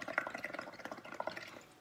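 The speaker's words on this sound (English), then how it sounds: "when you blow out on your bubbles" Air bubbles gurgle and pop quietly in a bubble mixture as someone blows through a straw, a faint, irregular run of small wet blips close to the microphone.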